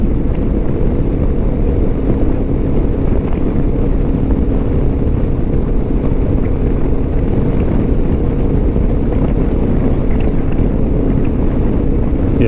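A 2025 Lifan KPT 400 motorcycle runs on the road with a loud, steady engine drone heavily mixed with wind buffeting, unbroken throughout and with no talking.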